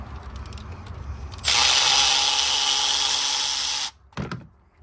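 A power tool loosening spark plugs on a Honda CR-V whines at a high, steady pitch for a couple of seconds, then stops, followed by a brief clatter and a short second burst.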